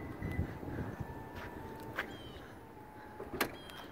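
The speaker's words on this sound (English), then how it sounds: "you can see it's got the power doors" Power sliding doors on a 2018 Toyota Sienna LE wheelchair mobility van, a faint motor whine running under a low rumble, with light clicks and thumps from the door mechanism throughout.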